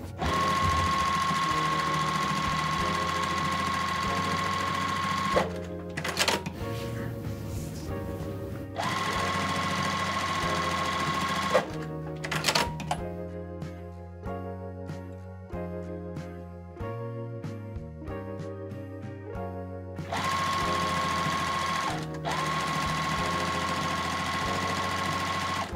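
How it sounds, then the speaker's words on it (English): A sewing machine stitching a quilt block runs in several long steady stretches of rapid mechanical whirring and ticking, close and loud, with short stops and fabric handling between runs. "I'm gonna go ahead and finish up sewing this beautiful quilt block."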